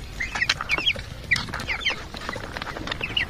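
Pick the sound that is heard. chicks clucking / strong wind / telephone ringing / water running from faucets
chicks clucking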